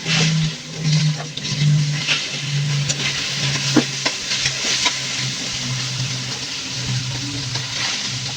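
Vegetables go into a hot frying pan and are stirred, giving a constant sizzle broken by scraping and clinking stirring strokes, over a low background hum.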